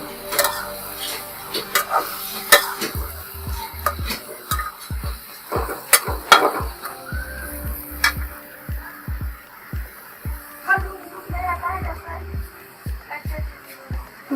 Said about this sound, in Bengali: আমি এখন পালং শাকগুলো ভালো করে নেড়ে চেড়ে কষিয়ে নেব